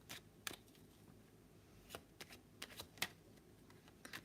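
Tarot cards being shuffled by hand in a quiet room, giving a series of soft riffling and slapping bursts at irregular intervals with no talk over them.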